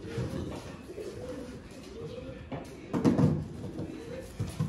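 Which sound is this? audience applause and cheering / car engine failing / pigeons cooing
pigeons cooing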